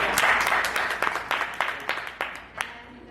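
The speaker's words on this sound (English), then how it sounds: "Round of applause for him" Applause at a Toastmasters club meeting in Medina, starting as a dense burst of clapping that thins into scattered individual claps tapering off by the end.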